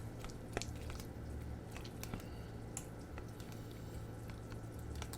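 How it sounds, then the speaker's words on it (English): Thick chili con carne with melted cheese and onions gets stirred in a pot, soft wet squishing and sticky squelches with faint ticks, quiet and close. "Let's go ahead and give it a little bit of a stir with the onions."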